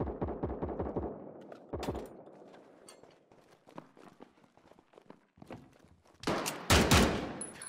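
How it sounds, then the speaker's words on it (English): Gunfire in the World War II shooter United 1944, with sharp close shots that include a loud shotgun blast, plus scattered distant reports and footsteps moving between them, fairly loud and uneven. "That was a nasty shotgun shot."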